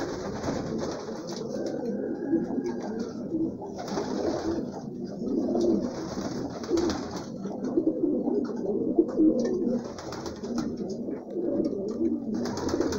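Racing pigeons coo in repeated soft, throaty phrases, several birds close by in a loft, with no talking.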